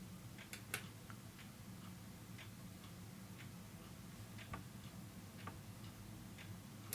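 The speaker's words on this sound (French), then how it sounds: "je peux vous faire écouter le tic-tac avec l'autre micro" A clock ticks steadily, faint and close, its sharp little clicks falling in an even rhythm over a low background hiss for several seconds.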